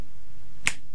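A single crisp finger snap, sharp and close, in an otherwise quiet radio studio.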